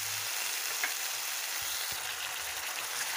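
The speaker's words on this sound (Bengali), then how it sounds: "মশলাটা যতক্ষণ না তেল ছাড়ছে ততক্ষণ পর্যন্ত আমি নাড়তে থাকবো।" Spice masala sizzles steadily in oil in a pan for a vegetarian potol malai curry, with a few soft stirring knocks of a spatula coming through the continuous close frying hiss.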